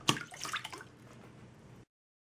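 Water splashing out of an upturned glass in a hydrostatic pressure demonstration, a sharp burst of falling water at the start giving way to a short trailing wash and drip before cutting off.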